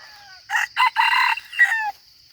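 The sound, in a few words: wild junglefowl (labuyo) rooster crowing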